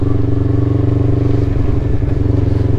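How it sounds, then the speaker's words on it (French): A motorcycle engine missing its exhaust baffle runs close and loud with a throbbing, uneven note that rises and falls as it revs. "accélérer et faire un petit son comme ça, c'est sympa"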